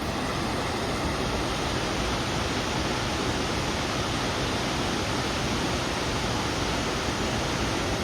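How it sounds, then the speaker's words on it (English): Waterfalls on a hiking trail roar as a dense, steady, broadband rush of falling water, loud and unchanging from start to finish with no other sounds. "Ooh, there's a cool view of the waterfalls."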